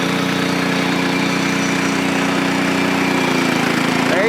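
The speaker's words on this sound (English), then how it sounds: "You want to hear the motor just change." A portable sawmill motor runs steadily under load as the blade cuts through a board, a loud, close, continuous engine drone with a slight shift in pitch toward the end.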